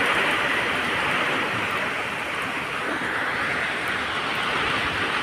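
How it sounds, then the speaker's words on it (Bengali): Very heavy rain pours down outdoors under a dark sky, a loud, dense, steady roar of water hitting surfaces that continues unbroken throughout, with no voices over it. "খুব জোর বৃষ্টি হচ্ছে,"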